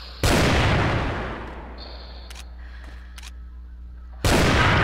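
Loud bursts of video game gunfire open and close the clip, with a fading echoing tail and a few sharp clicks between them.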